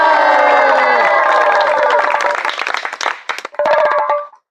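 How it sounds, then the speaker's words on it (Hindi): A street magician comedy show's audience erupts in loud, close cheering and shouting, which breaks into a flurry of clapping before cutting off abruptly. "हो जाए एक जोरदार तालियां"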